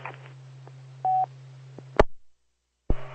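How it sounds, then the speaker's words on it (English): A telephone is dialed, with a steady dial tone, a few short tone beeps, then a sharp click, a brief silence and another click as the tone resumes. "I got to make a phone call or two to the hospital complex here."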